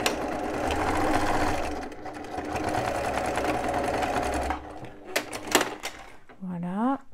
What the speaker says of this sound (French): Et je refais une couture à 1 cm.